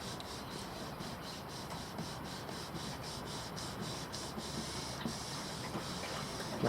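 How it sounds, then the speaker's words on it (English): A sander works over pearl paint on a 1988 Suzuki GSX-R, giving a steady close rasping hiss with a faint rhythmic pulsing and no talk. "sanding on the top of pearl, so I don't really want to take all the pearl off, but I just want to flatten out the job"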